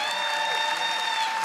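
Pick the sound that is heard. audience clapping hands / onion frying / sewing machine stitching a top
audience clapping hands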